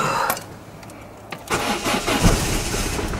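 Car engine in freezing weather cranking and catching, a quiet whir followed by a louder rough turnover settling into a low running rumble.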